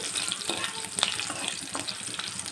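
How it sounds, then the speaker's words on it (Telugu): Bay leaf and curry leaves frying in hot oil in a pan, a dense continuous close sizzle with rapid crackling pops throughout. "బిర్యానీ ఆకు మొత్తం అన్నీ బాగా వేగిపోవాలి కరివేపాకు"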